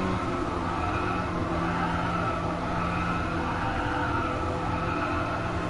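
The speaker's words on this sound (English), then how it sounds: "It does sound all over the place, this car, but it really isn't." A Renault Clio Cup race car engine from the video game Gran Turismo Sport drones steadily through a race, a continuous mid-level hum and rumble without clear revving peaks or speech.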